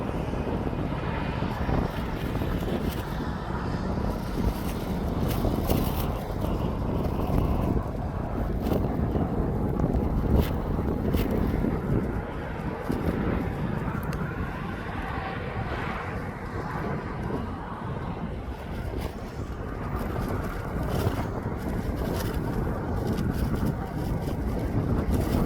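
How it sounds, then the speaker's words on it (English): An 18-year-old Boeing 737-8Q8 jet at East Midlands Airport, a broad, steady engine rumble and roar that holds for the whole stretch, muddied by heavy wind noise on the microphone. "737-8Q8. It's 18 years of age."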